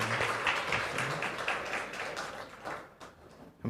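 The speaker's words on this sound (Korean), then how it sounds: "우리 하나님께 영광의 박수 함께 올려드리겠습니다." A church congregation at a Korean Sunday service claps in applause, a fairly soft, irregular patter of hands that thins out toward the end.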